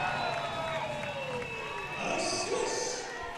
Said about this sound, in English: Can't really hear the referee's whistles right now with the crowd cheering as the goal